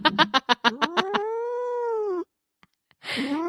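A cat gives a run of short, rapid chirping cries that stretch into one long drawn-out wailing meow, followed by a brief pause and another loud yowl.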